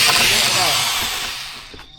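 A power drill bores a hole with a steady, close, high whine that gradually fades out near the end.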